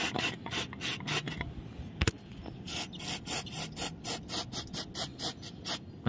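Rhythmic rough scrubbing on a motorcycle center stand, cleaning off dirt after spraying it with CVT cleaner, repeated brisk rasping strokes close up with no talk.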